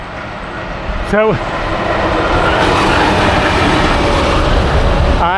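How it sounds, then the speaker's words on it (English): A train passes close by beside a lakeside luxury housing area, a loud steady rumble and clatter of rail cars with a short horn-like tone near the start; someone says a brief word. "Oh, there's a train coming."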